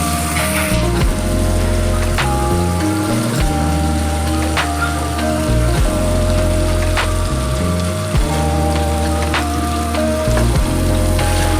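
Chicken pieces for a crispy restaurant-style starter fry loudly in hot oil, a steady dense sizzle close up that never lets up, with a low tonal hum underneath and no talk.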